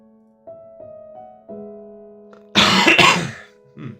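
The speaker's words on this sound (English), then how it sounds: "Been trying not to cough into the microphone." Two or three harsh, close coughs burst out together in a single loud fit over a quiet electronic game-music tone, and a softer throat sound follows just after.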